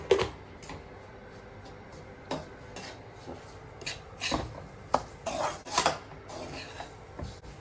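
Jaggery being stirred into a dish, a spoon clinking and scraping against the vessel in scattered, irregular taps over a quiet background.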